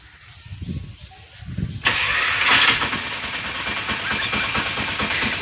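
A new motorbike's engine cranks and catches, jumping from faint background sounds to a loud, steady running rumble that continues close by with no talk over it.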